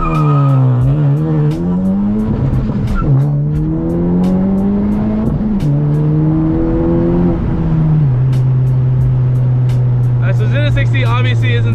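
A tuned 10th-gen Honda Civic Si running on E85 launches hard, its engine note climbing loud and close through the revs while the tires squeal, then settling into a steady drone.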